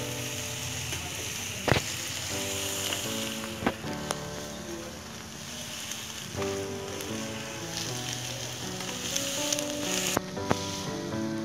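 Vegetables and pasta sizzle steadily in a pan for Maggi masala pasta, a dense continuous frying hiss with a few sharp clicks, under a loud music bed.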